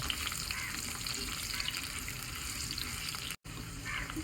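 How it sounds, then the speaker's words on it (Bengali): Potato pieces fry in hot oil, giving a steady, close, even sizzle with some faint stirring and a brief dropout near the end. "আলু কটাকে আমি একটু ভালো করে ভেজে নেব"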